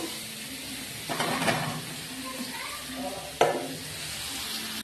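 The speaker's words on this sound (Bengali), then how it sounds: "এবার এর মধ্যে আমি ফুলুরিগুলো দিয়ে কষিয়ে নেবো।" Gram-flour fritters frying among spices in a pan, giving a continuous soft sizzle with a few stirring strokes and one sharp scrape near the end, close and without speech.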